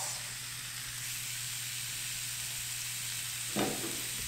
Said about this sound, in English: I'm going to put half of the chicken thighs into my pan, and Ms. H is going to put half into hers. And while they're sizzling